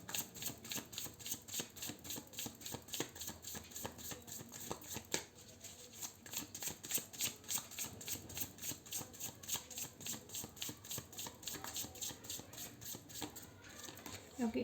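Tarot cards are shuffled over and over in a rapid, rhythmic riffling patter that goes on steadily, soft and close, with a single sharper slap midway and quiet speech faintly underneath.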